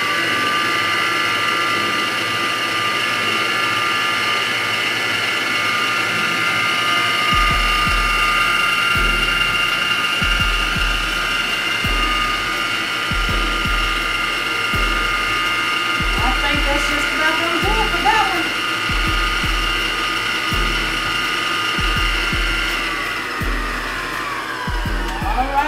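Electric mixer beating cream cheese pound cake batter, a loud continuous motor whine with rhythmic knocking pulses from the beaters against the bowl, and a faint voice underneath.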